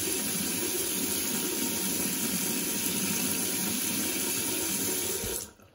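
Steady stream of water running from a tap during a static electricity demonstration, a continuous close splashing rush that holds for about five seconds, then cuts off abruptly when the flow stops.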